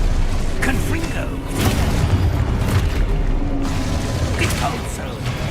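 A Confringo fire spell bursts in Hogwarts Legacy, a dense rumbling blast with crackling mechanical clatter that stays loud and continuous throughout, with a couple of sharper impacts layered on top.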